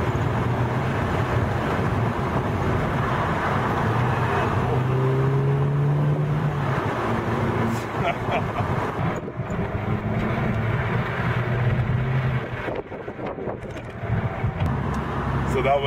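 A 2007 GTI is driven hard through turns on a winding mountain road near Vancouver, its engine droning loudly under continuous road and wind noise while someone talks over it.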